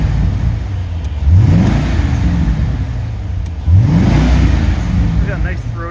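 A 2002 Corvette convertible with a Magnaflow exhaust, revved twice while parked: two rising throaty engine blips over a steady idle, close and loud, with no talking.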